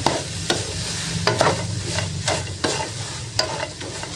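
Bean sprouts being stirred in a hot pan with oil, a steady close sizzle broken by a few sharp utensil scrapes and clacks against the metal, no voices.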